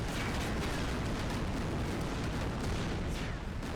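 Dense, continuous gunfire rattles in a Sega video game, a steady wash of shots and blasts layered together without a pause, loud and unbroken.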